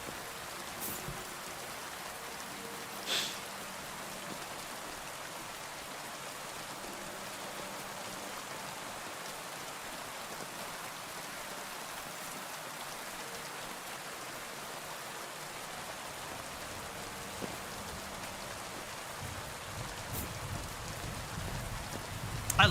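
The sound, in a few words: rain in a video game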